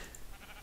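Sheep bleating in the Minecraft Tekkit modpack, a short steady game-audio bleat at moderate level, heard alone without talk.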